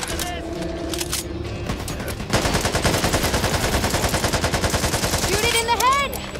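Rapid automatic gunfire from the Back 4 Blood video game, a dense rhythmic burst of shots that starts after a couple of seconds and keeps going loudly, with shouting voices and creature-like calls over it near the end.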